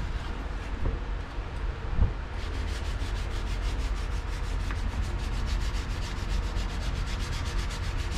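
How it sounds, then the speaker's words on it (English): Sandpaper of 600 grit rubbed by hand over C6 Corvette dashboard trim during prep, a steady close scratchy rasp of light back-and-forth strokes running throughout without talk. "I'm just letting the sandpaper do its thing."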